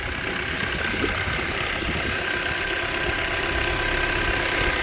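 A Hyundai Grandeur IG 2.4 with about 50,000 km idles just after a cold start, a steady, close engine drone with a faint ticking texture and no voices.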